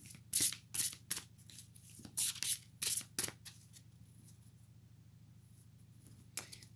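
Tarot cards are handled and shuffled up close in quick bursts of crisp rustling and slapping, followed by a quieter stretch of low hum.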